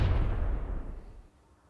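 A railgun sound effect fires from a model on display, one loud booming burst that rumbles and fades over about a second, heard alone.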